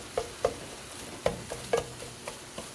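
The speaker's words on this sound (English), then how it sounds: "So we're going to cook this, chop it up, cook it until it is brown." Chopped food sizzles quietly in a pan while a utensil stirs and scrapes it, making a series of soft, irregular clacks over a faint frying hiss.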